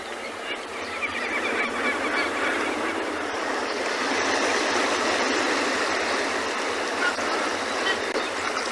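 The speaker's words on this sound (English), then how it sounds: "So this is our African penguin." African penguins bray in a noisy colony in Cape Town, their honking calls layered over a steady wash of ocean surf.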